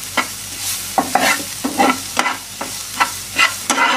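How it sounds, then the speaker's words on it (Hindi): Tomatoes with onions and spices frying in a pan while being stirred, a steady close sizzle broken by about ten sharp scraping strokes in an even rhythm, with no talking. "उसमें इसमें हम टमाटर डालेंगे और उसको अच्छी तरह से भून लेंगे"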